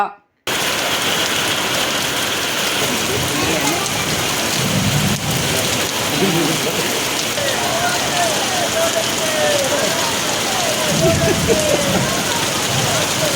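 Heavy rain pours steadily during a Tiranga rally in Gadag, a dense close hiss of drops hitting surfaces, with low murmuring voices partly buried beneath it.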